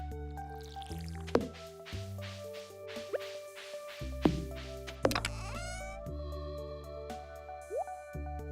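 Watering a plant in a cozy farming video game gives repeated squishy drips and liquid pours in short bursts, set over a steady game music tone with no speech.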